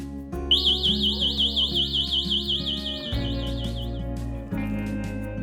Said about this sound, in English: Let's try using the alarm and wireless ignition key.